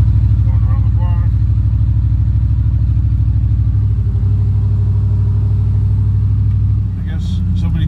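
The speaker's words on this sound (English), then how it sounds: "Yeah, so I'm just warming my truck up right now." A pickup truck engine idles steadily in the early morning while warming up, a loud, even low rumble throughout, with someone talking over it briefly near the start.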